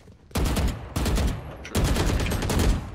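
Gunfire in the video game Valorant, three loud bursts of rapid shots in quick succession, each cutting in sharply and sustaining briefly, with no talk over them.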